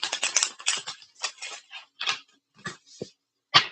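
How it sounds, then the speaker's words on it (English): Stiff, thick oracle cards are shuffled as a split deck, giving rapid clustered riffling clicks and flutters in uneven bursts with brief pauses, close by and with no voices. "This deck is kind of hard to shuffle, so that's why I split it."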